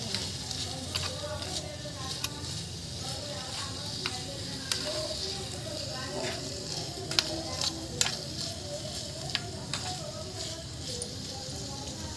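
Chicken curry sizzles in a pan while a spoon stirs it, with soft scraping and patter over a steady frying hiss and sharp clicks of the utensil against the pan, fairly quiet and close.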